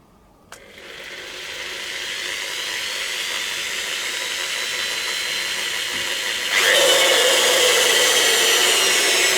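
A power drill with a big bit starts with a click and whines steadily as it bores into a toy figure body, the pitch and loudness rising sharply partway through.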